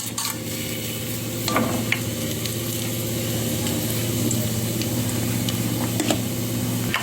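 Whole spices frying in hot oil in a heated pot for mushroom biryani, a continuous moderate sizzle over a low steady hum, with a few sharp clinks and stirring scrapes, no voices.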